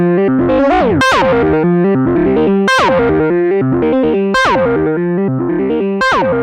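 Novation Circuit Mono Station synth run through a KORG nu:tekt OD-S overdrive pedal at low knob settings, playing a loud, gritty repeating bass sequence with pitch-swooping notes that cycles about every one and a half seconds, no speech.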